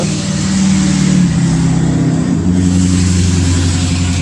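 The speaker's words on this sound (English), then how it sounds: "it's traffic, because I live in the suburbs" Suburban road traffic with a car engine revving, a loud close rumbling drone that rises and shifts pitch midway, no talk.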